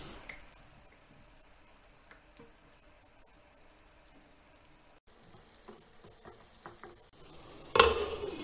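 Food frying in a pan over medium heat after being flipped, with a low steady sizzle and faint scrapes throughout, growing brighter and louder near the end.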